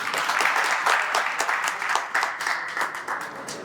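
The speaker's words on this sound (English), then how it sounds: "Please give her another round of applause." Steady applause from an audience at a Sri Lankan Tamil diaspora book-reading event fills the room, with dense, continuous clapping that swells and dips slightly over a few seconds and no talk over it.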